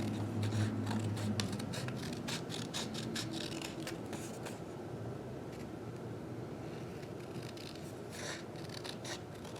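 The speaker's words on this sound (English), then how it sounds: "I like the sound that the scissors make when they cut through the construction paper too." Quiet, repeated papery snips and rustling scrapes, close up and fairly soft, as scissors cut through sheets of construction paper.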